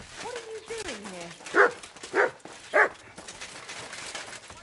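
Dog in the medieval role-playing game Kingdom Come gives three short, loud barks about half a second apart, after a voice speaks at the start over soft ambient game background.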